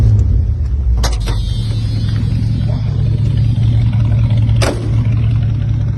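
A warmed-up vintage American muscle car engine idles steadily with a deep, continuous low rumble, close and loud, with a couple of brief sharp clicks over the top.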